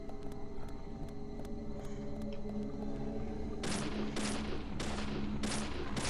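Rapid bursts of gunfire from the Deadly Premonition horror video game, several loud broadband shots clustered near the end over a steady game soundscape.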